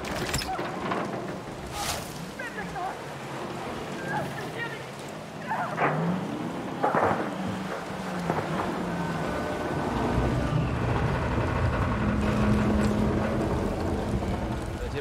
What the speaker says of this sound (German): Der Sturm wird stärker!